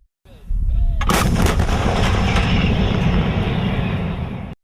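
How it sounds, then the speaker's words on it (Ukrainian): A single powerful blast from a 152 mm Hyacinth artillery gun booms close by, followed by a long rumbling roar and echo that slowly fades. "боги війни відкрили вогонь із 152 мм гармат гіацинт"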